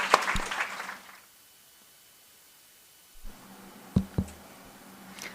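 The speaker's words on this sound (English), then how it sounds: "Let's give a round of applause to our sir." A brief burst of audience applause at an engineering college orientation day fades out within the first second, followed by near silence and a couple of faint knocks.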